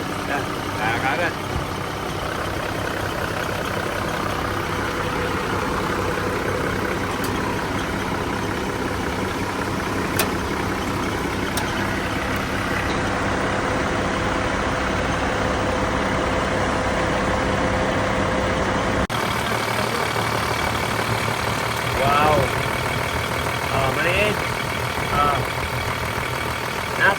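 Toyota Land Cruiser FJ40 engine idling with its air conditioning running, a steady low drone with an even hum throughout, while people talk over it.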